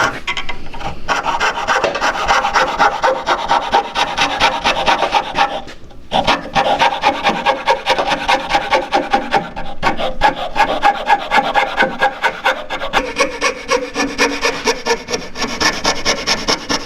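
A hand saw rasps back and forth through wood while roughing out a strop handle, loud steady strokes in a repeating rhythm, with one brief pause midway and no talk.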